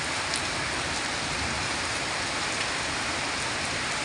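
Heavy typhoon rain pours down in a dense, steady hiss, drumming on surfaces without a break.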